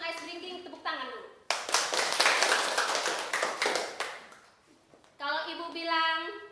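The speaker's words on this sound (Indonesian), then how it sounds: "Sebelum ice breaking tepuk tangan dulu." A standing group claps together before an ice-breaking activity, a loud burst of many hands lasting several seconds. An adult's voice speaks before and after the clapping.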